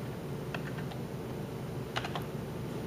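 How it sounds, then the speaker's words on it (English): Computer keyboard typing in a quiet room, two short clusters of light clicking keystrokes over a steady background hum, with no talking. "We type in equals,"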